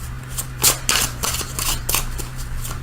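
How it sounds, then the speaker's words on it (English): A Shadowscapes Tarot deck is shuffled up close, a few quick riffling bursts of card against card separated by short pauses over a quiet room. "I'm going to shuffle these for just a second."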